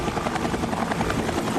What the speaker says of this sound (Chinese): 飞机螺旋桨发出的声音非常的大